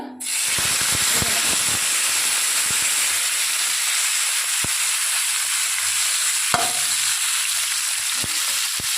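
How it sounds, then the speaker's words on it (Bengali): Fish sizzles in hot oil in a wok with a continuous, close hissing crackle, punctuated by a few sharp pops and spatters, with no talking. "প্রথমে আমি কড়াইতে তেল দিয়ে মাছগুলোকে ভেজে নেব"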